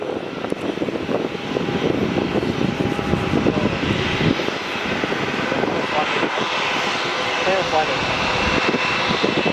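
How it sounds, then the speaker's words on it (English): Airliners at Melbourne Airport Terminal 4, a Jetstar A320 on final approach and a Virgin Australia 737 pushing back, give a steady, loud broadband jet roar that fills the whole stretch with little change in level. "we've got another JetStar A320 on final, and a Virgin Australia 737 pushing back right now"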